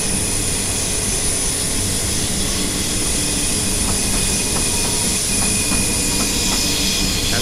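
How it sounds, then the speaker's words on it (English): A train in Train Simulator 2018 crosses track switches on the Portsmouth Direct Line near Waterloo. A constant loud rumble of wheels and cab noise runs throughout, with faint rhythmic clicks in the latter half. "I believe we are switching tracks,"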